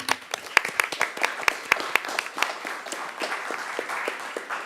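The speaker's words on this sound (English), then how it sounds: "We'll give them all a round of applause." An audience at a city council meeting claps for recognized city employees, a sparse scatter of sharp, distinct hand claps that thickens briefly, then settles into softer, steady clapping, with faint talk underneath.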